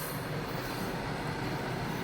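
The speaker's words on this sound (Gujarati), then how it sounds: "જો માલગાડી જાય છે" A freight train rumbles past close by a market on Dharmendra Road in Rajkot, a steady loud roar of rolling wagons with faint wheel rattle throughout.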